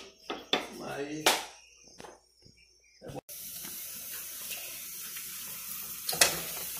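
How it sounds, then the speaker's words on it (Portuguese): Onion and garlic hit hot olive oil in a pan while cooking a pork stew, a faint steady sizzle after a few clanks and utensil knocks, soft and close. "Um pouquinho de azeite para eu dar uma refogada aqui na cebola e no alho."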